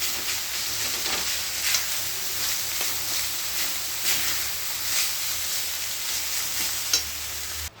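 Banana stem (thor) fries and is stirred in a pan, a steady close sizzle with light scraping and hissing throughout, no voices.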